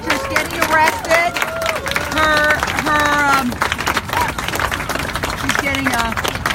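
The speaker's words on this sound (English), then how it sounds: "She's getting a rousing round of applause." Crowd at a slaughterhouse protest applauding and cheering, a steady wash of clapping with voices mixed in, loud and continuous throughout.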